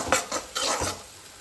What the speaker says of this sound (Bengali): এদিকে এটা কষতে থাকুক।